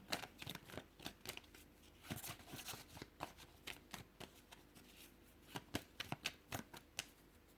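Tarot cards are shuffled by hand for a three-card reading, a close run of quick riffling bursts and soft slaps in uneven clusters, with no talk over them.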